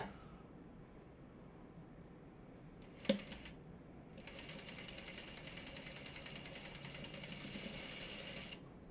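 A sewing machine stitches a quilt block, its motor running steadily and close for several seconds after a sharp click, with no voices over it.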